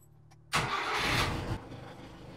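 A Subaru Sambar with a newly replaced carburetor cranks briefly and fires into a loud, steady run lasting about a second before settling to a quieter idle, heard up close with no talk.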